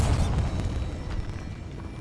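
The Bombarda blasting spell goes off in Hogwarts Legacy as a deep, rumbling explosion, heavy in the low end, that sustains and slowly decays over two seconds.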